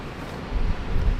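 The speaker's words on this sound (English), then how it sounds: "The winds are 50 k's at the moment" Strong coastal wind of about 50 km/h buffets a parked van on an exposed Eyre Peninsula shoreline, a steady low roar that swells louder in gusts partway through, close and continuous with no voices.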